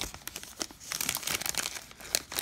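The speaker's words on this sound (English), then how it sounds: "I'm using my scissors." Kid scissors cut open the plastic wrapper on a 2019-20 Donruss Basketball blaster box: close, brisk crinkling and crackling of film in quick irregular bursts, with no voices.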